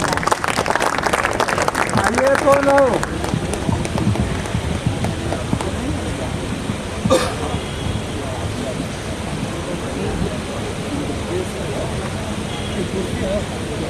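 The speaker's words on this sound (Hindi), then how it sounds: "एक बार जोरदार ताली बजाने का" Applause from the crowd at a protest rally, starting over a speaking voice and then carrying on as a broad, rain-like patter of clapping that gradually softens.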